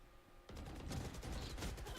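Rapid gunfire in the Valorant video game during an engagement, with near-constant bursts of shots that start abruptly and stay loud, dense and sustained to the end of the moment.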